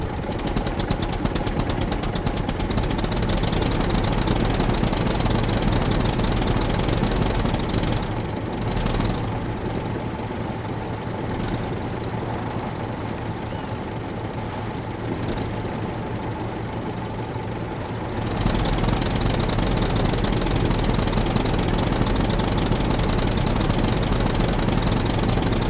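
A tractor engine runs near Alconchel, Badajoz, a loud steady knocking diesel chug that eases slightly midway and picks back up, with no voices.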